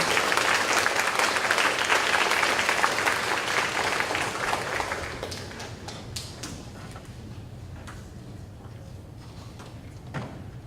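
An audience claps for students at a high school academic awards ceremony, a dense burst of applause that gradually thins out into scattered claps and room noise.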